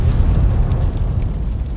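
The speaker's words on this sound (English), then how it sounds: "we're about to watch this woman get blown up because she's too dumb to run away from" A loud explosion in the video game Fallout New Vegas, a dense, continuous low rumbling roar that fills the whole moment without any break.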